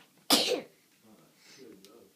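One sharp, loud sneeze bursts out close by, followed by faint, quiet voices talking in the background.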